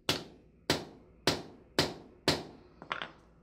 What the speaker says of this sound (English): take the chisel and hold it at a slight angle so I can cut through the coating